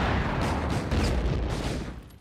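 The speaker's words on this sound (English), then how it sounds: "the nickname for the M1 155 millimeter gun, fires a 6-inch round up to 14 and a half miles." Heavy M1 155 mm artillery gun, a 15-ton field piece with a 23-foot barrel, booming and rumbling continuously, loud and dense with a sustained roar that fades toward the end.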